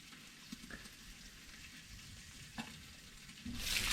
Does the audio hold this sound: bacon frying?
yes